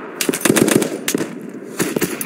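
Machine gun fire in the Mud and Blood war game at St Lo: rapid, loud bursts of close gunshots in quick rhythmic strings, pausing briefly before another burst, with no talking.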